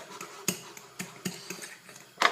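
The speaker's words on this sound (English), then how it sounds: "integrate all that together, the almond butter, the banana and the egg, just making sure there's no big lumps of almond butter or banana left in there" A fork beats almond butter, mashed banana and egg into a pancake batter in a bowl, giving a run of close, sharp clinks and scrapes at an uneven rhythm, with a louder rattle at the end.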